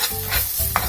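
A spoon scrapes and stirs cooked beans seasoned with a pinch of cumin in a hot pan, a close sizzling hiss with soft scraping strokes and one sharper tap near the end.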